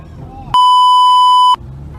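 A single loud, steady electronic-sounding car horn beep holds for about a second, cutting through quieter background murmur before and after.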